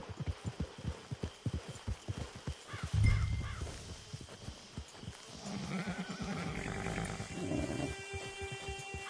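Horse in the video game Red Dead Redemption 2: steady rhythmic hoofbeats clopping close by, a snort and whinny partway through, then movement continuing under a low ambient bed with tonal game music.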